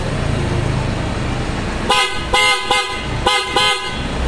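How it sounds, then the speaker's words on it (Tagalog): Two car horns, a PIAA horn and a stock horn on a Toyota Hilux, sound together in a run of short, loud blasts, about five honks in an uneven rhythm over a running engine. "pinagsabay natin yung PIA horn tsaka yung stock ni sir"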